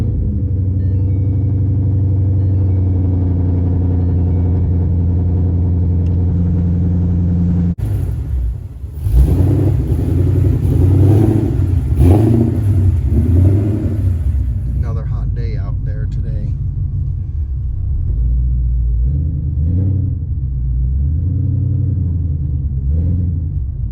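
Ford Mustang GT V8 breathing through Steeda mufflers with side pipes closed off, a loud deep idle rumble that climbs into revving surges and settles back, heard up close with someone talking over part of it.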